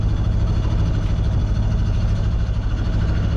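A sailboat's inboard engine idling without being revved, a steady, close low rumble with an even, unchanging drone and no voices.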